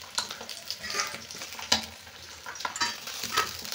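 Fried fish sizzling in hot oil in a home kitchen as pieces are stirred and lifted out, with crackling bursts and sharp spatter peaks over a continuous frying hiss.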